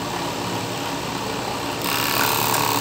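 A sewing machine runs a reinforcing seam along a double-layered waistband being joined at the side of a thong, giving a steady, fast mechanical whir throughout that grows slightly louder and brighter partway through.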